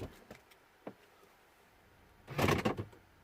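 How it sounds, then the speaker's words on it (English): Door of a Mini Cooper R56 hatchback swings shut with a solid, close thump, preceded by a couple of faint clicks and quiet handling noise. "close the door"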